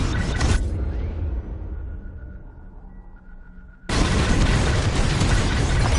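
Bombs detonate in Star Wars: Squadrons, a loud roaring boom that fades into a low rumble with faint tones beneath, then a second blast that hits hard and stays dense and sustained.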